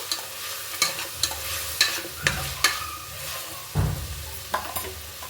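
Bitter gourd sizzles as it fries in a pan, with a spoon or ladle scraping and stirring in sharp, irregular strokes over a steady hiss, close and clear.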